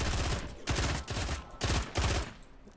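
Gunfire in the multiplayer game Vampire: The Masquerade - Bloodhunt, four loud bursts of rapid shots separated by short pauses, close and punchy, with no talking during the shooting.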